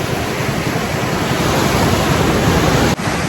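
Strong ocean waves wash onto a beach on Camara Island in Zambales, a loud, continuous roar of surf with heavy wind rumble on the microphone and no talking.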